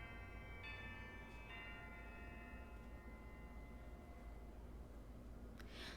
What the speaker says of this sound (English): Oh, that's the lunch bell, isn't it?